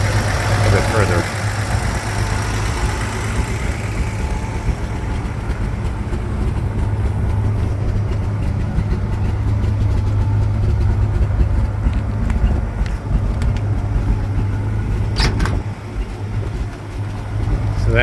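A 1954 Chevrolet 3100 pickup's six-cylinder engine idles steadily with a low, even rumble and a strong hum throughout, close and loud, while someone talks over it.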